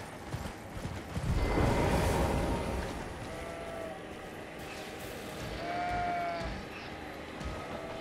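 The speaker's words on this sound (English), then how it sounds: "This is where all the animals are. All the sheep and things and kids." Sheep bleat in an Elden Ring field among other animals, several calls rising over a steady game ambience with a brief swell of noise, no voices over it.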